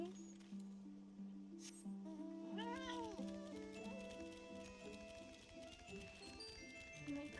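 A cat meowing in the video game Final Fantasy XIV, a clear rising-and-falling meow heard over steady background game music, fairly close.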